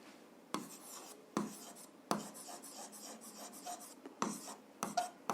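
Pen scratching on paper while an algebra problem is written out by hand: bursts of scratchy strokes separated by brief pauses, close and quiet, with no talking.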